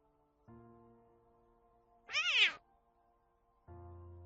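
A cat gives a single clear meow, rising then falling, close and fairly loud, set between stretches of a steady tonal hum at the start and end.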